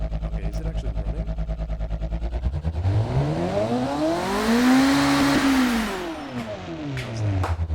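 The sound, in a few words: car engine running loudly in BeamNG video game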